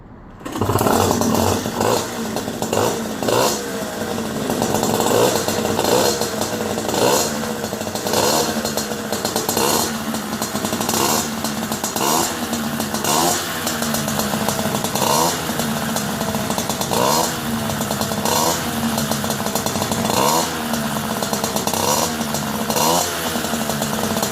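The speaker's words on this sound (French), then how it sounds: "un petit coup de décompresseur pour relâcher la valve et en même temps un petit peu coup d'accélérateur pour faire tourner le moteur" A Peugeot 70cc moped engine, Airsal kit, is started with the decompressor and throttle, then catches and runs as a loud, raspy two-stroke buzz, revving up and down repeatedly close by with no talk over it.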